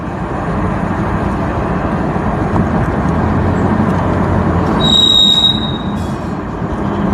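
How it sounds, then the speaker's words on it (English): A loud train passes close by, with a steady rumbling roar of railroad cars and wheels and a brief high metallic squeal of wheels near the end. "That was a loud train."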